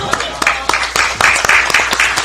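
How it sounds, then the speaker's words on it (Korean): Clapping at a party leadership meeting in Korea, close and fairly loud: a handful of sharp, separate claps in an uneven rhythm that grows into a brief patter of several hands. "박수도 쳐드려야 되는데 아직 한 번도 안 했어요."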